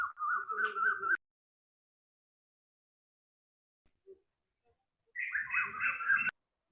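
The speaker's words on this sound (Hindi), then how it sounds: "चिड़िया बोल रही है" Two bursts of bright, whistling bird chirps, one brief and one longer, separated by a few seconds of near silence.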